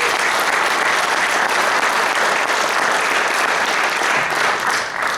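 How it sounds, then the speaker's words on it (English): Sustained applause from an audience at a ceremony, dense and loud clapping carrying on evenly throughout, tapering slightly at the end. "Let's give them a round of applause."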